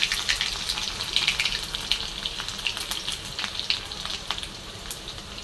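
Cumin seeds and garlic sizzle in hot oil with mustard seeds, a close, steady crackling fry with scattered sharp pops throughout.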